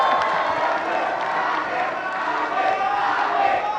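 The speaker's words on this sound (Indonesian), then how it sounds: "Sekarang boleh tepuk tangan." Audience applause mixed with cheering and crowd noise at the close of a 2019 Indonesian vice-presidential debate, a dense, steady roar filling the hall throughout.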